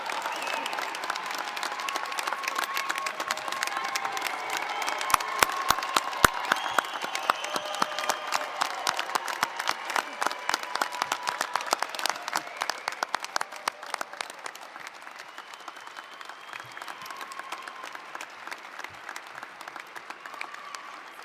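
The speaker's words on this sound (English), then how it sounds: "let's give our graduates another robust and heartfelt round of applause." A large crowd at a student-athlete graduation celebration gives graduates sustained applause, dense clapping with scattered cheers and murmurs, loud and continuous for about twenty seconds before thinning slightly toward the end.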